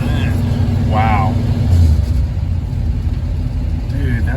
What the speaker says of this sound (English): that thing is idling